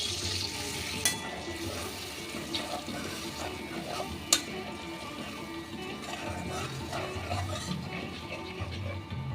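Water from rinsing a yogurt bowl splashes into a hot cooking pan on low heat, giving a soft, uneven pour and sizzle with a couple of sharp clinks from the bowl.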